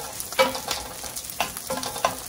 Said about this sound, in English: oil's hot, and to that I'm gonna add this pork sausage, Iberian.